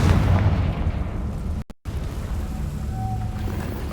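A Confringo spell explosion in Hogwarts Legacy produces a loud, deep rumbling blast with a sustained roar, briefly cut by a moment of silence before the rumble resumes and continues steadily without speech.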